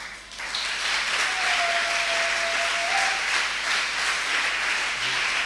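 A church congregation at a French-language sermon breaks into steady, full applause that carries on evenly throughout, with a faint sustained tone running underneath.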